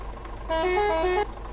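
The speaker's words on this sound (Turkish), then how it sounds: "Kornalarımız." A fuel tanker truck horn in a Roblox driving game sounds one loud, steady, tonal blast of under a second, set against a low engine rumble.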